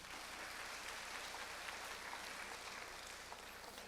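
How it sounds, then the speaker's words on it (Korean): Faint, distant applause fills the hall at an outdoor-style jazz concert gathering in Changwon, a steady wash of many hands clapping without voices standing out. "박수 부탁드립니다, 여러분들"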